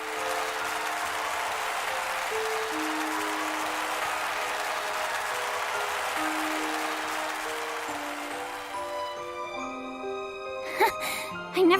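Thundering applause fills a stage performance hall in the video game Octopath Traveler II, a dense steady roar of clapping that fades out near the end as soft musical chimes take over.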